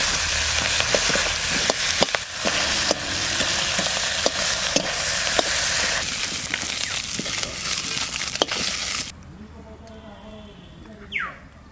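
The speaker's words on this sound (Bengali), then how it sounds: "মাথাও ভাজা হয়ে গেছে, তখন সুন্দর জিরে মশলা" A fried catla fish head is stirred in a pan with cumin spice paste, with a loud sizzle and repeated spatula scrapes and knocks that stop suddenly, leaving a quieter pan afterward.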